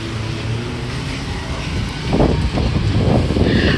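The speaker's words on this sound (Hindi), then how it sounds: "बहुत तेज़ यहाँ पे हवा चल रही है, आंधी हो रही है" Strong stormy wind sweeps through Makkah during a rainstorm with thunder and lightning, a constant broad roar that swells into louder, gusty bursts in the second half.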